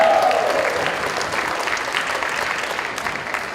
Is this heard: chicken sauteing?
no